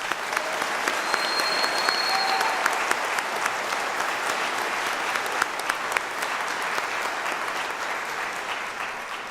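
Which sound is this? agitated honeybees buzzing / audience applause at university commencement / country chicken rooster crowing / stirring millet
audience applause at university commencement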